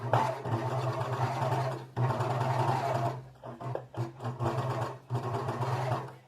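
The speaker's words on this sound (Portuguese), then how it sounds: "Aqui é overlock, a gente vai passar apenas também nessa parte arredondada que a gente costurou" An overlock serger runs steadily, finishing the rounded edge of a tailored trouser piece without trimming the fabric, in long continuous bursts with brief pauses, close and loud, with no speech.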